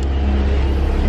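Ferrari 488 GTB driving along, its engine giving a steady low rumble with constant road noise, close and continuous, no voices.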